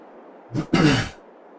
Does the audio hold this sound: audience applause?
no